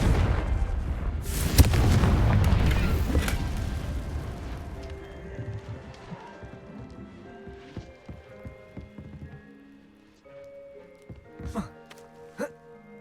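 A Confringo blast spell going off in a wizard video game, a loud booming explosion that rumbles and fades over several seconds, followed by scattered smaller impacts and clicks, with a voice speaking briefly.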